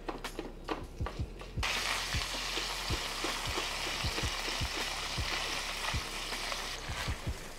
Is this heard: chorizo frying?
yes